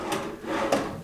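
A wooden drawer in a bedside vanity in a resort hotel room slides with a short rubbing scrape, then a firmer knock near the end as it shuts, close and fairly quiet.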